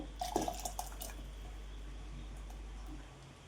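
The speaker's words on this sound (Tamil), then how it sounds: "தேங்காய் விழுதை வந்து இதில் ஊற்றிக்கலாங்க" Ground coconut paste poured into a pot of hotel-style idli sambar with cooked vegetables and dal, giving a few soft wet plops and squishes early on, then a quiet low hum.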